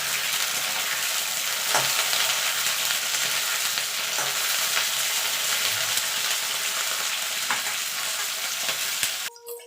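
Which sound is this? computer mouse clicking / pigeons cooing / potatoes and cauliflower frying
potatoes and cauliflower frying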